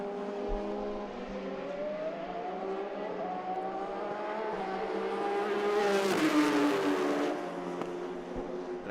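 Formula 3 race cars accelerate on a circuit, engines climbing steadily in pitch, with a louder car sweeping close past midway before the sound eases off.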